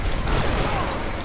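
An Uzi submachine gun fires in a Max Payne 3 deathmatch at the Imperial Palace Hotel map. The gunfire is dense and continuous, loud and close, with no clear gaps between bursts.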